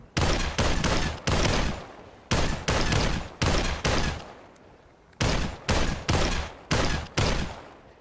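Gunfire from the VR game Population: One, fired at a target on a wall: loud clustered bursts of rapid shots in three volleys with short pauses between, no talking.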